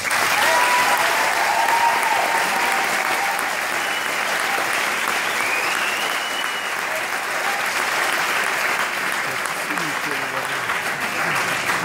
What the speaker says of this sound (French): Je vous demande d'applaudir Madame Sigrid Tenissen.